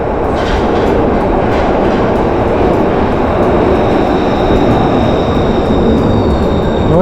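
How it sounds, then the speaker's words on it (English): A Glasgow subway train rumbles loudly and steadily as it pulls into the station, with a high metallic squeal of wheels on the rails toward the end. "Oh, I hear that train coming."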